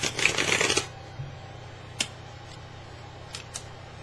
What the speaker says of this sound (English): I'm going to try to shuffle this a little bit away from the microphone